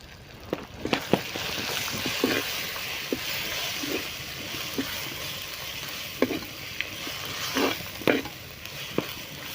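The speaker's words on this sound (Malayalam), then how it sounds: "ഒരു സ്പൂൺ കാശ്മീരി മുളക് പൊടി നമുക്ക് ഇട്ട് കൊടുക്കാം രണ്ട് സ്പൂൺ മല്ലിപ്പൊടി ഇട്ട് കൊടുക്കാം" Kashmiri chili powder and coriander powder fry in oil in a pan for a Kerala-style fish curry with kudampuli, giving a steady close sizzle broken by repeated scraping clicks of a spoon stirring.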